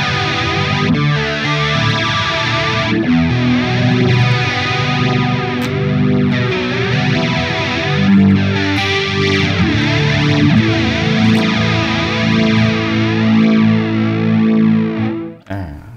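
Electric guitar played through the chorus effect of a Hotone Ampero multi-effects processor, a steady shimmering strummed passage with a slight distorted edge, loud and continuous alone for about fifteen seconds before cutting off.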